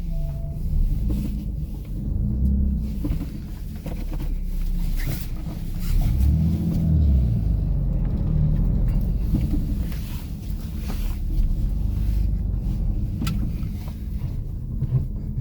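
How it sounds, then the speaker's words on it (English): Low rumbling engine and tire noise of a car slowly pulling into a newly built office garage, heard steadily and close without speech, with a deeper surge midway. "it's my first time pulling a car into the new garage we built in the office."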